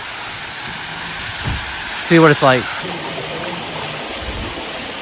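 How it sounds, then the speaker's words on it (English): Clear stream water runs and splashes steadily as water bottles are filled near Seven Sisters Waterfall above Geirangerfjord, a constant close rushing hiss with brief speech over it. "We're about to fill up our water bottles right here."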